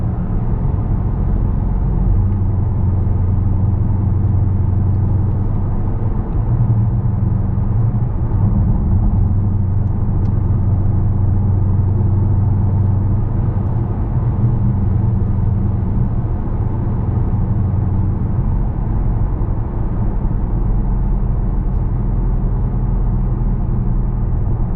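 A Dodge ScatPack cruises along in a steady drive, its engine a low continuous rumble mixed with road and cabin noise, even in level with no sharp revs or breaks.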